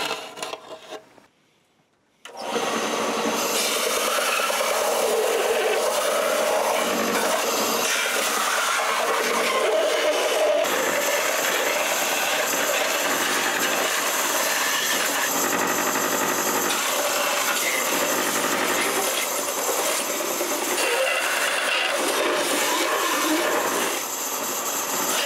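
A belt sander grinds steadily and loudly against a Star Wars B-Wing pilot helmet prop, a dense continuous abrasive whir that starts after a brief quiet moment and holds for the rest of the stretch, close-up and with no talking.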